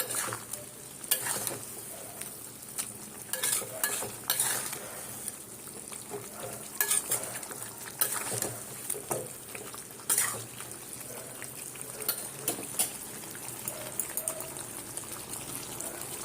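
Meat curry simmering in a pot after soaked spices and ground masala are added, giving a steady bubbling and sizzling texture with intermittent stirring clatter close by, moderately quiet and without talk.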